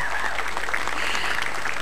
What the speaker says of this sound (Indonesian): Tepuk tangan yang juga meriah untuk dari kubu Koalisi Prabowo, Mas Siddiq dan juga Nurbidan Munir.